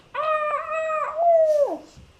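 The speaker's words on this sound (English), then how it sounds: "It's a dog, okay? It's a dog." A dog's howl played as a sound effect: one long, loud, clear wavering howl that holds steady, rises slightly, then slides down and fades, heard alone without talk.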